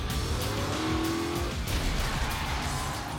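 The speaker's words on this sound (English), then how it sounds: "We're gonna pull this car in here at about 50 miles an hour, so it'll look like a very violent wreck." A car drives in fast at about 50 miles an hour for a staged violent wreck on a film set, its engine roar close and loud with a brief tire squeal, no talking.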